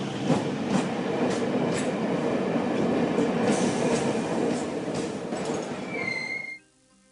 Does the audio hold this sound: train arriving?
yes